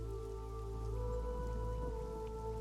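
A steady rain sound effect hisses evenly beneath a droning musical tone during a tabletop role-playing session, with dense, continuous drops and a faint low rumble throughout.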